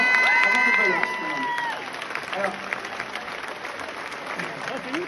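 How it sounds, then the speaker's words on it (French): A crowd at a concert in Saint-Étienne applauds, with bright whistles rising at the start before the clapping settles into a steadier, softer wash. "on peut l'applaudir très fort, s'il vous plaît"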